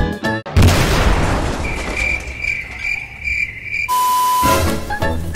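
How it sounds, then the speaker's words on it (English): A truck blows up in a Roblox game: a loud booming blast followed by roaring, hissing debris and a tonal ringing, ending abruptly before more game sounds, no voices. "Let's blow it up."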